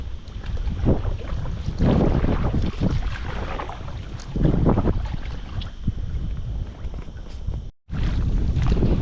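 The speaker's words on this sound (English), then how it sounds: "this wind is just ripping" Strong gusting wind buffets the microphone in loud, sustained roaring bursts while someone paddles a rubber dinghy on water, with splashing and handling noises underneath and a brief dropout near the end.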